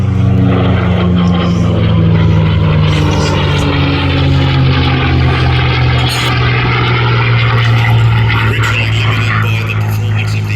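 A North American P-51 Mustang fighter's propeller engine drones loudly and steadily at an air display, a sustained throbbing roar with a commentator talking over it throughout.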